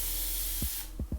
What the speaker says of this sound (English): And I'm just gonna use my setting spray.